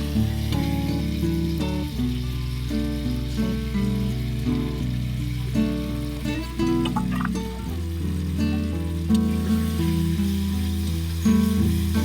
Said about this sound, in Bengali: আমি এটা মশলাটা এবার আলুর মধ্যে দিব, দিয়ে কষাবো।